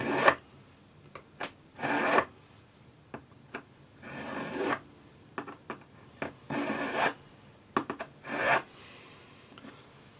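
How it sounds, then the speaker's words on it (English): A hand file rasps along the edge of a metal swirl ring being shaped at a jeweller's bench, in close, crisp bursts of strokes separated by short pauses, with no talking. "I'm just going to drop the edge of the file in, and as I file, I'm just slightly rolling the file."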